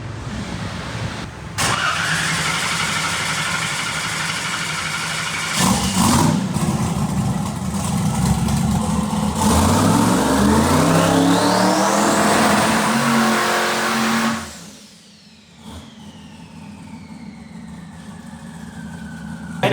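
Chevrolet Camaro engine running on methanol, loud and close, rumbling at idle then revving up through a rising roar before dropping back to a lumpy idle, with a brief quieter moment.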